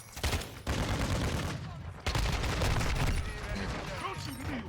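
Sustained automatic gunfire in a Call of Duty match on PS5 with a Kastov 545 rifle, loud rapid bursts with a brief pause, then continuous fire trailing off.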